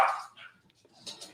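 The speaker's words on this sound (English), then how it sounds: "Doggy's barking." A dog gives a quick pair of barks, followed by a softer, higher yelp, all within a second or so and fairly close.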